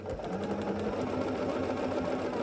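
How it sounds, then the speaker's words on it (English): A sewing machine stitches a quilt block, a steady, close, continuous motor hum with a fast rhythmic needle patter running throughout, with no voices. "you can just start sewing here"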